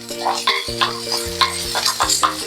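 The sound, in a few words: stirring onions, peppers and courgettes frying in a pan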